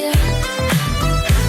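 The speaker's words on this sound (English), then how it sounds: "I'm going to be remaking the synth fill, which sounds like this." A bright synth fill from a pop song plays alone: a short, loud phrase of a few sustained, harmonically rich notes, each one sliding or swooping in pitch as it starts.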